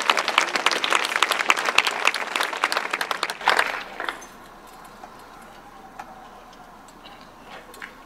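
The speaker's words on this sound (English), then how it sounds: "let's give them another round of applause" Audience applause at a promotion ceremony: a dense burst of clapping that rings loudly for about three and a half seconds, then cuts off, leaving a quiet room with a few scattered faint sounds.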